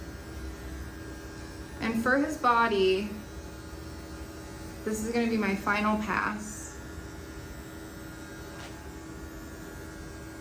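Cordless dog clippers fitted with a 10 blade hum steadily through a final pass over a dog's body during grooming, a constant close buzz under a person talking.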